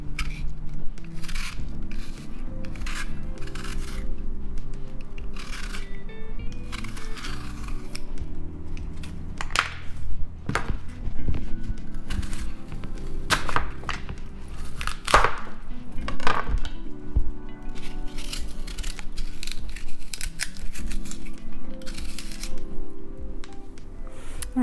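A knife chops cabbage into pieces for sauerkraut, producing repeated crisp, crunchy cuts in an uneven rhythm, close and clear, with no talk over it.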